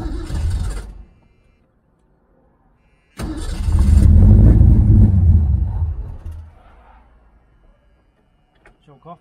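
A Ford Mustang II, running on a battery booster, cranks with a brief burst, then after a pause fires up into a loud, steady engine rumble lasting a few seconds before settling and dropping off; no one speaks.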